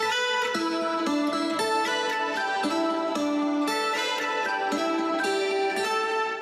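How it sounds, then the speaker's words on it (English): Layered, reverberant guitar chords ring out together, sustained notes blending into a wide, washy wall of harmony with no voices. "we can layer in another guitar with a subtle harmony maybe, or add a different instrument with another type of reverb"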